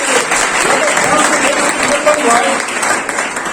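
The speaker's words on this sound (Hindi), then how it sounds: "जोरदार तालियां" Dense audience applause fills a college seminar hall, steady and close throughout, with crowd noise mixed in.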